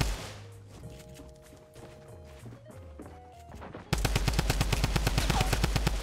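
Tommy gun fire in the video game Fortnite: a fast, loud burst of automatic shots in the last two seconds, after quieter game music and effects.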